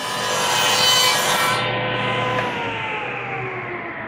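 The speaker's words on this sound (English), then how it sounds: "And I got my compound miter box saw set up to do the corners right now." A compound miter box saw cuts the wooden corner pockets of a home-built pool table. The saw gives a loud, steady grinding rasp that swells early and then tapers off over a few seconds. No one speaks.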